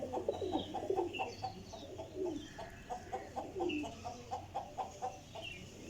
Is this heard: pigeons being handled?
yes